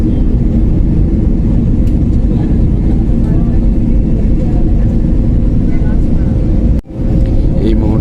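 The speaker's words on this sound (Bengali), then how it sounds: "এই মুহূর্তে আমাদের বিমানটি ওমান এয়ারপোর্টে ল্যান্ড করতেছে।" A passenger airliner lands at an airport in Oman, its loud low engine roar and cabin rumble sustained throughout, broken by one brief dip near the end, with talk over it.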